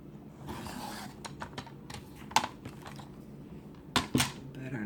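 Scissors cut a tiny piece of fabric in half, making a few close, sharp snips and soft rustling at a quiet level.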